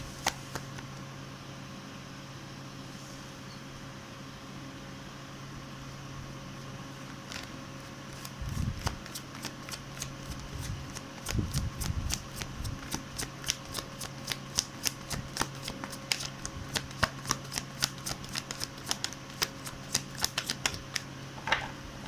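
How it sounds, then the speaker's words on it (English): A deck of cards is shuffled repeatedly, starting with a few soft riffles and building into rapid, crisp flutters close by. "One more shuffle."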